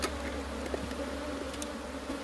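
A soft, steady drone of honeybees rises from an opened hive as frames of comb are worked through, continuous and fairly faint with small flickers of nearby wings.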